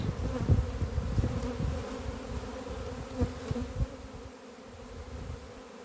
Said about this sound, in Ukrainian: Гремить пасіка, срочно треба.